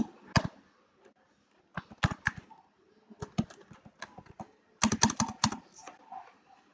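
Someone types a master password on a computer keyboard: close, crisp key clicks in short bursts separated by brief pauses, with no talk.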